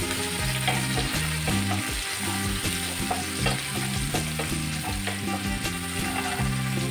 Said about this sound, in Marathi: कांदा पण आपल्याला असं मस्त गुलाबी कलर येईपर्यंत असं मोठं शिजेपर्यंत परतून घ्यायचं आहे तेलामध्ये